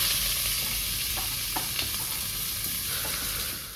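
Chopped onions hit hot ghee already seasoned with whole cumin, setting off a loud, dense sizzle that runs steadily throughout, with a few faint stirring clicks near the middle.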